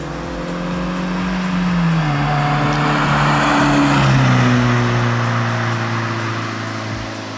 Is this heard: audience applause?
no